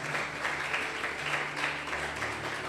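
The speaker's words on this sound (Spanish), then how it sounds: "den un aplauso al Señor por esa palabra" A church congregation claps together in a steady, even wash of applause, with a low sustained tone humming underneath throughout the short burst.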